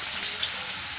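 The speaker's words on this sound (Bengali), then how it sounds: "তেলের মধ্যে আমি আলুগুলো ভেজে নেব।" Potato pieces fry in hot oil in a wok, giving a close, continuous bright sizzle with no voices.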